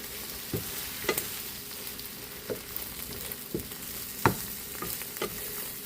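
Eggs frying in a hot pan give a steady close sizzle, broken by occasional soft taps and scrapes of a utensil against the pan, with no voices.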